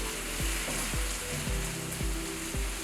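Tomato, ginger, onion and garlic sauté in hot oil for a Kerala-style beef ularthiyathu masala with a steady, close sizzle. Regular spatula strokes scrape the pan about twice a second, and no voices are heard.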